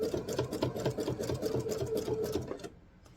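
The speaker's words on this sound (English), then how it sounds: "So go ahead and continue to sew this all the way around." A sewing machine stitches around a coiled fabric bowl in a rapid, rhythmic run of needle strokes, close and steady, then stops abruptly near the end.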